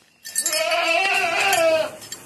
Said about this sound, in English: I'm gonna film the goats